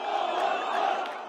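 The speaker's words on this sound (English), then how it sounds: "furious crowds took to the streets." A dense roar of an angry crowd protesting in a West Bank street, steady and loud throughout the short stretch, with many voices merging into one shouting mass.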